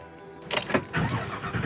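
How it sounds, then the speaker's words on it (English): Ford E350 motorhome chassis with a 7.3-liter V8 starting up: a brief starter crank, then the engine catches into a close, steady idle rumble with no talk. "Let's fire it up. Love the sound of a good V8."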